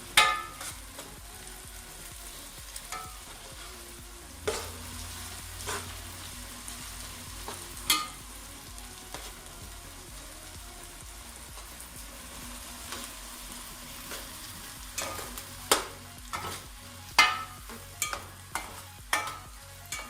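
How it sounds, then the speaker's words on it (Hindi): Potatoes and onions fry in a wok for an Afghani breakfast omelet while a spoon stirs them, giving a steady soft sizzle broken by irregular scraping clacks against the pan that grow busier toward the end. "आपने इस तरह से चम्मच हिलाते रहना है क्योंकि ये नीचे ना लग जाए आलू और प्याज"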